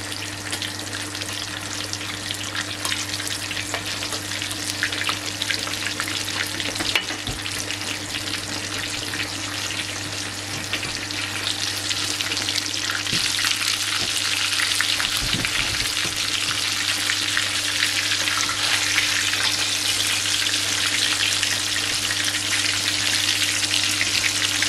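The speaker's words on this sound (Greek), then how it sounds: "Το αφήνετε να τηγανιστεί" Breaded pork schnitzel fries over low heat in a pan of seed oil, a steady close hiss and crackle that runs unbroken throughout, with occasional faint clinks.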